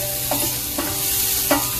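Mushrooms sautéing in a pan give a steady, even sizzle, broken by three short scrapes of stirring spaced about half a second apart.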